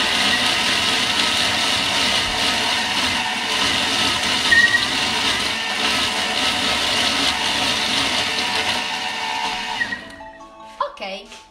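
A Bimby food processor chopping chicken at speed 7 whirs loudly and continuously for about ten seconds, then winds down and stops, leaving a few small clinks.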